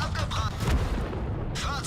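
A tank cannon shot in World of Tanks, a single deep booming report with rumbling low end, fairly loud amid ongoing game noise.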